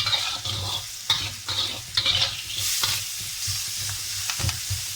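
Ghee crackles and sizzles steadily as something is stir-fried to light brown for Kerala-style lobster masala, with repeated scraping stirs of a spatula in the pan, close and fairly loud with no talking.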